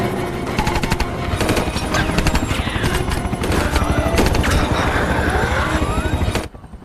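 Rapid bursts of soldiers' automatic gunfire at zombies rattle loudly over the steady thrumming whir of a helicopter in the film World War Z (2013), ending abruptly near the close.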